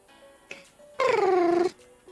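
A single drawn-out cat meow, falling in pitch, sounds close by against a quiet background with faint thin tones.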